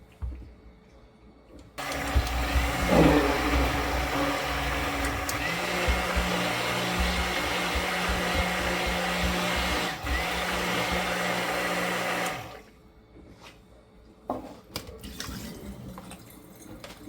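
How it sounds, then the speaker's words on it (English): A blender purees red pepper into a tomato sauce made from orange oxheart tomatoes, a loud steady whir running for about ten seconds before cutting off, with quieter kitchen clatter before and after. "I'm going to go ahead and puree that together."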